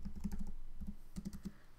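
Typing on a computer keyboard comes as quick bursts of crisp, close key clicks in an uneven rhythm, with a short pause in the middle; no voices.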